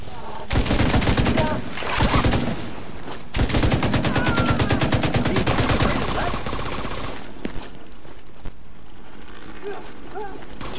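Sustained enemy automatic gunfire in The Division 2, rapid loud bursts of shots in several long strings with short pauses, fading into quieter ambient noise toward the end.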